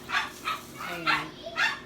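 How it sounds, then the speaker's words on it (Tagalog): A dog at a home with a chicken farm barks close by, several sharp yaps in quick succession, loud and clear, with a voice briefly speaking between them. "napakaingay ng aking aso, guys."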